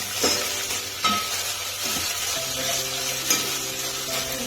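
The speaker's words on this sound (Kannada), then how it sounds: "ಕ್ಯಾಪ್ಸಿಕಮು ಮತ್ತು ಟೊಮೊಟೊ ಹಣ್ಣು ಹಂಗೆ ಹಾಕ್ಕೊಂಡು ಒಂದು ಸ್ವಲ್ಪ ಫ್ರೈ ಮಾಡ್ಕೊಳ್ಳೋಣ ಚೆನ್ನಾಗಿ" Capsicum and tomato frying with curry leaves for bisi bele bath, a soft continuous sizzle broken by a few sharp spoon strokes against the pan.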